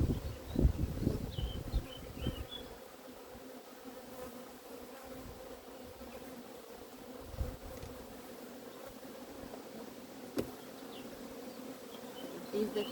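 Honeybees swarm and buzz around an opened hive during an inspection, a steady close drone of many wings with a few louder passes near the microphone early on and no speech.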